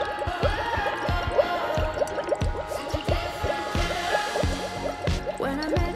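A bubbly slime mixture fizzes and overflows after a school science reaction, a busy stream of wet pops, drips and squishy bubbling close by, steady throughout with no talking.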